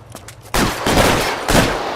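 Gunfire erupts in the video game L.A. Noire, a loud, dense burst of rapid shots that rolls on continuously after a few quieter pops at the start.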